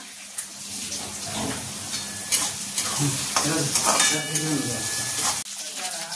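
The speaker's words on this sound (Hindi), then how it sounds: "तेलामध्ये मिरची आणि कांदा टाकले, छान भाजून घ्यायचंय।" Green chilli and onion fry in hot oil, a steady close sizzle with stirring scrapes running throughout.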